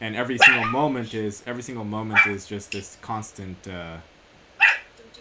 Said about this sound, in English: We have kids playing in my neighborhood that's making my dog bark.